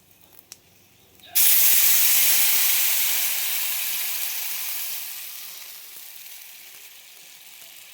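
Hot water hits a hot tadka of oil and spices with a sudden loud burst of sizzling hiss that slowly fades and settles over several seconds, preceded by a quiet moment and a small clink.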